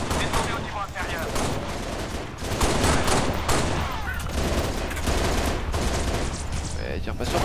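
Dense, continuous gunfire from a Halo Reach battle, with sustained rapid automatic bursts and blasts over several seconds.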